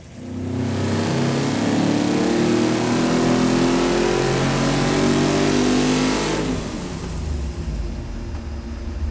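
A powerful big-block V8 engine on a dyno revs hard past 5,000 RPM and steadily climbs in pitch, loud and close, then cuts back abruptly to a rough idle.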